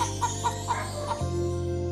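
A big, strong, handsome rooster clucking: four short, evenly spaced clucks within about a second, then a steady tonal background with no voices.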